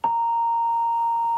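A single steady electronic beep, sharp onset, holding one clear tone for over a second with no other sound.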